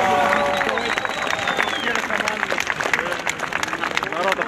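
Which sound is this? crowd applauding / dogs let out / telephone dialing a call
crowd applauding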